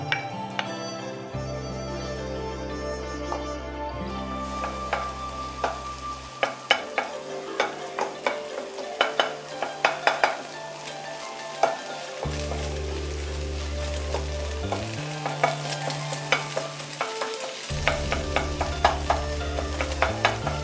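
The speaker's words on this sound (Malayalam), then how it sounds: "ഇതിലേക്ക് ബീറ്റ് ചെയ്ത് വെച്ചിരിക്കുന്ന മുട്ട ഒഴിച്ചു കൊടുത്ത് ഒന്ന് സ്ക്രാമ്പിൾ ചെയ്തെടുക്കണം" Beaten egg scrambled in hot butter in a pan, with spatula stirs and scrapes clicking steadily over a continuous music track.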